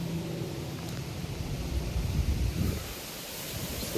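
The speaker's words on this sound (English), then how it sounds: "man, it is windy" Steady wind gusting outdoors during a deer hunt, a loud, broad rushing roar that buffets the microphone throughout, with no voices.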